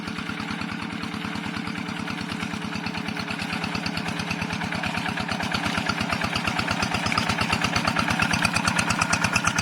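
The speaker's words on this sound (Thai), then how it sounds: "โอ้ยันมา นี่เสียงใสๆเลยนะครับ" A small single-cylinder Yanmar walk-behind tractor engine runs steadily nearby, a rapid, even chugging throb that grows slightly louder throughout.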